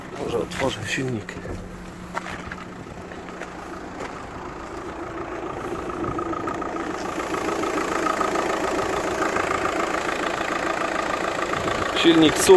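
A 2006–07 Audi A3 Sportback with a 2.0 TDI BKD diesel engine idles steadily, its low hum slowly growing louder and closer across the stretch with faint background noise.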